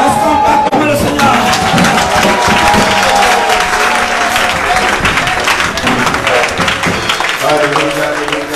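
A church congregation applauds the Lord during a Sunday service, with sustained loud clapping and cheering that fills the room and a voice speaking over it.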